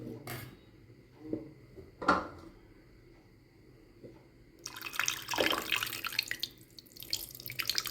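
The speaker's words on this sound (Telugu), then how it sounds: "ఇంకా పోసుకున్నామండి కొంచెం వాటర్" A few faint clinks of a pot, then water gushes in over tamarind liquid for a fish curry with a rushing, splashing pour that keeps going to the end.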